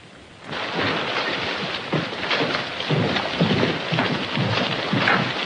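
A thunderstorm roars with heavy rain and rolling thunder, a loud, dense wash of noise that swells in low rumbling bursts throughout, with no voices.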